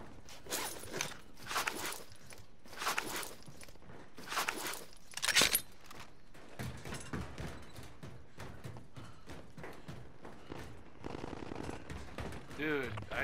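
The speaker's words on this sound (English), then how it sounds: "Dude, I hear gunshots." Gunfire in a tactical shooter video game: several bursts of rapid shots come in clusters, fairly quiet and distant-sounding, mixed with footstep-like clatter and gear rattle between them.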